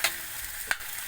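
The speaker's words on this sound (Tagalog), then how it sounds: "Haluin lang natin yan mga boss." Humba pork stew sizzles in a frying pan while a utensil stirs it, with a couple of short scraping strokes over the continuous hiss.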